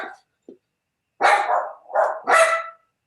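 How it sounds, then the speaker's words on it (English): Dogs bark indoors during an online meeting: a couple of short yips, then three loud, close barks in quick succession, with silence between them. "My dogs are barking away."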